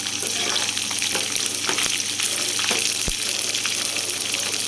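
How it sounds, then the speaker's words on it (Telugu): Four dried red chillies frying in hot oil for a summer special raw mango pulihora, a steady, dense sizzle that holds close and loud throughout with a few faint clicks of stirring. "తర్వాత ఒక 4 ఎండుమిరపకాయలు వేసుకోవాలండి. వేసుకుని ఒకటి ఫ్రై చేసుకోవాలి."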